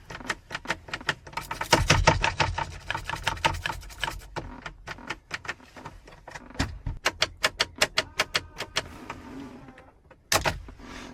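A rapid series of metallic clicks and rattles as a stuck key is wiggled in a 2006 Dodge Durango ignition, in bursts with short pauses, close and fairly quiet.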